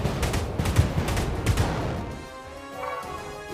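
A Fireworks skill attack in the turn-based role-playing game Chained Echoes, used on a full meter: a quick run of loud crackling bursts and sharp bangs over about two seconds, then a fading tonal shimmer.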